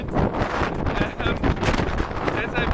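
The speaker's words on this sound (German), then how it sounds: "aber jetzt ist es ein bisschen windig und es gewittert auch ein bisschen" Gusty wind buffets the microphone during a thunderstorm in Croatia, a steady close roaring whoosh with brief surges, while speech runs faintly beneath it.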